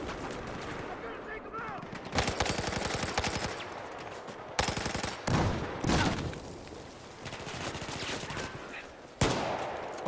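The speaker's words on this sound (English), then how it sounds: "That's my guy shooting off over there." Loud, sustained gunfire from the Battlefield 4 video game, with dense automatic bursts and sharp shots cutting in repeatedly over a steady battle din.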